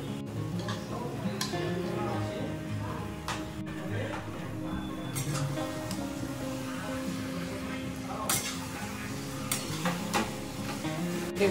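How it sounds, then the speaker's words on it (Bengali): Yogurt-marinated chicken cooking in a pan at home, giving a steady soft sizzle with occasional light clicks and clinks throughout. "দুপুরবেলা যে ম্যারিনেট করে রেখেছিলাম চিকেনটা, এটা দিয়ে দিচ্ছি আর কি"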